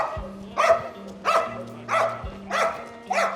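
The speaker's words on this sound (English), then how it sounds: "We have a dog in the car if you want to see a bit of barking" A police K9 dog barks from inside a car in five evenly spaced, loud, close barks, with a steady low tone droning underneath.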